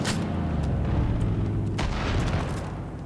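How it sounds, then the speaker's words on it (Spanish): Gunfire in the Far Cry 5 video game: a loud, dense rumble of explosive booms and shot bursts filling the whole stretch, fading slightly toward the end. "¡Están disparando cosas!"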